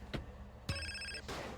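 A mobile phone rings in GTA San Andreas, a short electronic trill heard as two quick bursts close together, moderately quiet over low game background.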